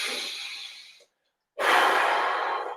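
Close, steady breathing during a finger-pulling stretch with whole fingers hooked, a long audible breath, a full second of silence, then another sustained breath.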